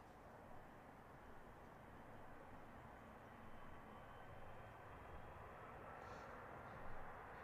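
A Boeing 777 freighter taking off at Stansted Airport, a steady distant jet roar holding at a low, even level throughout, with no talking.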